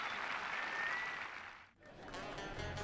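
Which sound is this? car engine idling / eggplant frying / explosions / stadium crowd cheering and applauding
stadium crowd cheering and applauding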